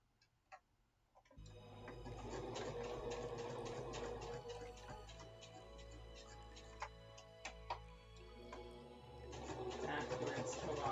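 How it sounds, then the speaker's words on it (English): A sewing machine stitches appliqué stars on fabric, starting with a few clicks and then running in a continuous close whir with rapid mechanical ticking and a low motor hum, briefly easing before speeding up again. "my sewing machine whirs"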